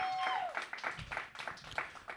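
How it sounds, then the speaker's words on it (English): An audience applauds at a live hip-hop featured-artist show, a brief burst of dense clapping with a voice briefly audible over it. "Give a round of applause once again."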